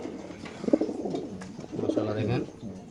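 Racer pigeons in a sale loft cooing, soft repeated low coos close by, with people talking over them.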